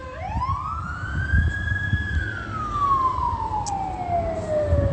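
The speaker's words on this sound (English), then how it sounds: "where they're sounding sirens" A Rancho Cucamonga fire vehicle siren sweeps up in a long wail and then slowly falls, loud and fairly close, over steady road rumble.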